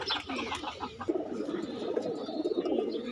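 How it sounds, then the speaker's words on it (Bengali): Pigeons, including female pigeons, coo softly and repeatedly nearby, low throaty warbles overlapping in a steady murmur, with a few faint rustles and no speech. "এগুলো হইলো আমার মাদি কবুতর"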